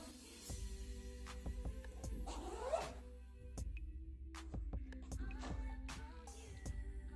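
Zipper being pulled open on an Eastpak x Telfar large shopper bag, a drawn-out rasping slide with a few sharp clicks and rustles of the fabric, close and fairly quiet with no talking.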